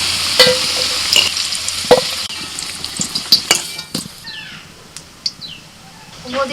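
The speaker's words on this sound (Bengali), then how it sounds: "আলু লাল লাল করে ভেজে তুলে নিচ্ছি" Potatoes fry in hot oil until reddish-brown for an Adivasi-style duck meat dish, a steady sizzle broken by loud stirring scrapes and clinks of a utensil against the pan.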